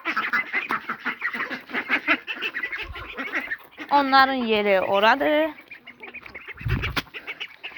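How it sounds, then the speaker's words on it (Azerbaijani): Farm ducks, big ones and ducklings, gather for their morning feed and quack in busy, repeated bursts close by, with a person talking over and between the calls. "Bu da bizim ördəklərimiz."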